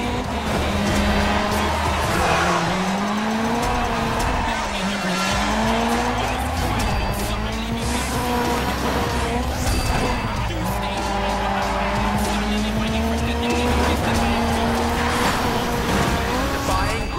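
Car drifting in the racing video game Dirt Showdown, a revving engine that rises and falls with long tire squeals and skids, loud and continuous, with a voice talking over it.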